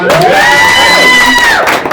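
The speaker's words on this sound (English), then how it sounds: "Give her a round of applause" A studio audience bursts into loud cheering and whooping for a singer, with high sustained shouts dominating and faint clapping beneath.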